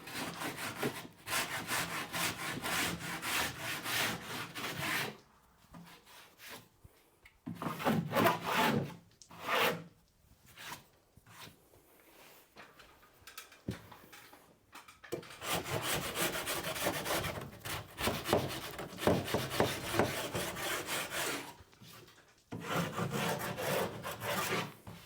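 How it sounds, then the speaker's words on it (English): A hand rasp files a wooden board in bursts of close, coarse scraping strokes, separated by short quiet pauses, with a longer run of steady strokes toward the end. "so I bought a rasp."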